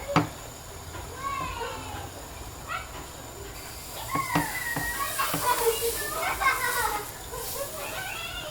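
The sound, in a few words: children playing outside near the house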